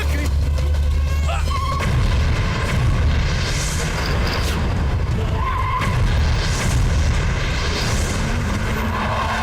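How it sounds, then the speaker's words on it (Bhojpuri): Loud, sustained booming rumble of a bomb blast in a Bhojpuri movie scene, a dense wall of roaring noise filling the whole stretch, with shouting voices mixed in. "बम से उड़ा"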